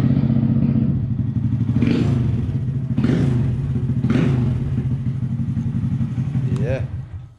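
Honda Grom motorcycle engine idling after an airbox mod, a steady close-up putter with a few small throttle blips and light clatter, running alone without revving before it shuts off near the end.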